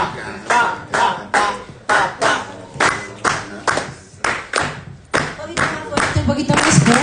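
A live concert audience claps a salsa clave rhythm in unison, sharp, loud, evenly grouped hand claps repeating in the syncopated pattern.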